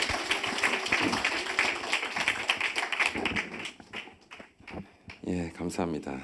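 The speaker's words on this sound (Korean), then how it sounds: "네, 박수로 환영하겠습니다." A church congregation at a Friday worship service claps to welcome a missionary, with brisk clapping under and around a speaking voice that continues toward the end.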